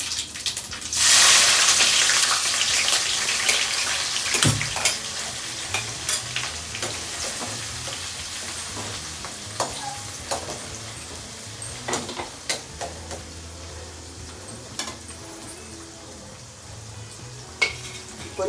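Chopped onion hits hot oil with mustard seeds in a pressure cooker, giving a loud initial sizzle that settles into steady frying crackle and pops, with occasional stirring clinks, close up and without talk.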